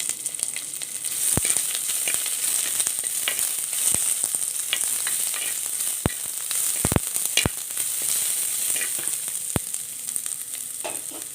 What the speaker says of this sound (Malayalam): ഇതിലേക്ക് ഇനി ഒരു ഏട്ട് പത്ത് ചെറിയ ഉള്ളി അരിഞ്ഞത് അതിട്ട് കൊടുക്കാം ചെറിയ ഉള്ളിയൊക്കെ ഒന്ന് നന്നായിട്ട് മൂത്ത് വരണം